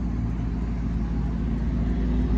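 Maserati GranTurismo S engine heard from inside the car, a loud, steady low rumble with a sustained droning tone and no clear rev peaks, no talking.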